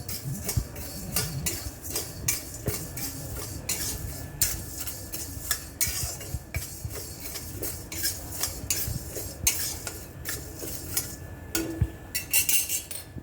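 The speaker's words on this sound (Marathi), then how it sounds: "हे तांदूळ आणि फुटाणे हे आपण आता कोरडेच भाजून घेणार आहोत।" Rice and roasted chickpeas dry-roast in a pan with a touch of oil. A spatula scrapes and clinks against the metal in a steady, brisk stirring rhythm, with no one talking.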